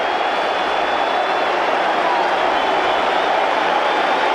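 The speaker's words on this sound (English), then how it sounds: "Yankee fans are up again." A sold-out Yankee Stadium crowd of over 57,000 roars steadily at a 1995 playoff baseball game against the Seattle Mariners, a dense, sustained wash of cheering that holds at full volume throughout.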